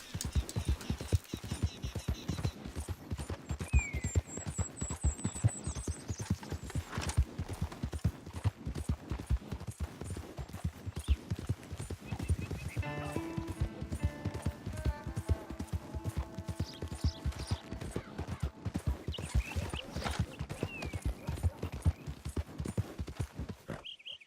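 A horse gallops in Red Dead Redemption 2, with steady rapid hoofbeats drumming close and continuous throughout, a brief whinny and tack jingling partway through.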